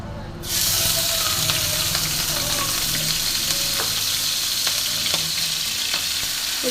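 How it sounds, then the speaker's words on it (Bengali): Chopped ginger, garlic and green chilli hitting hot oil, a sudden loud sizzle that settles into continuous frying with a few stirring clinks, close and alone. "আদা রসুন কাঁচা লঙ্কা কুচানোটা গরম তেলের ওপর আমি দিয়ে দেবো, একটু ভালো করে ভেজে নেব।"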